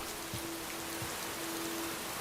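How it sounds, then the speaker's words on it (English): Steady rain falls throughout in a broad, constant wash of hiss with a faint tonal hum running beneath, no voices, just even moderate patter without pauses. "And it's raining now."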